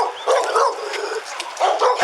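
A dog barks several times in quick bursts, sharp yips and woofs at close range, loud and alone with brief pauses between barks.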